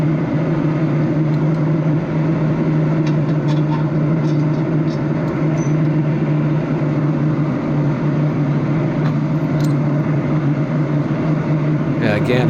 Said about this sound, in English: But that jet sound, if you hear it, is the propane torpedo heater that's blowing some hot air down here.